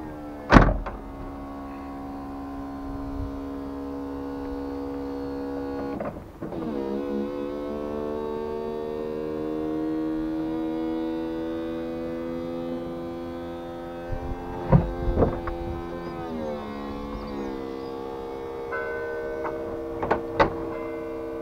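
Electric retractable roof of a car opening, a steady motorized whine running for many seconds, broken by a few clicks and clunks as the mechanism moves and latches.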